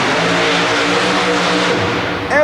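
Super modified mud racing car at a 1991 Metrodome event in Minneapolis launching off the line, a loud sustained engine roar with rising revs and a sharp surge at the end.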